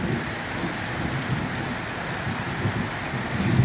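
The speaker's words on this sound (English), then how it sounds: "And now we're finally getting some rain. You can hear it on the roof." Steady rain drums on a roof during a lightning storm in Charters Towers, a dense continuous patter with low rumbling underneath, close and fairly loud throughout.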